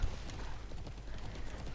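A horse's hooves clip-clop in the online game Alicia Online, a quick, even run of close hoof beats over a steady game soundscape.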